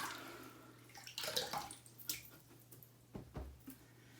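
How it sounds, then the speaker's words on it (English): Water splashes and drips as a shaving brush is wet under a tap, with soft squishing bursts between about one and three and a half seconds, fairly quiet and close. "Let's go ahead and wet this brush."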